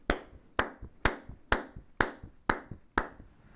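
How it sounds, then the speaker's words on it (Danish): Seven hand claps into a duvet land in an even rhythm. Each one is a short, dull, muffled thud with little ring, and no one talks. "Klapper ind i dynen."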